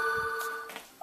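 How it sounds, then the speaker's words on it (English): In a home, a telephone rings briefly in the background with a bright, trilling electronic tone. The single short burst stops within a second and no voices accompany it. "I do apologize for the phone ringing in the background there"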